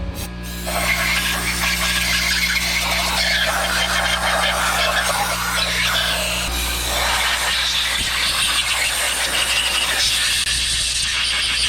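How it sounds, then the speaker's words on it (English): An air compressor blows a K24 cylinder head dry after washing: a loud continuous hiss of air with a steady mechanical drone underneath, shifting in tone partway through, no talking. "Now let's go turn the compressor on and dry it all out."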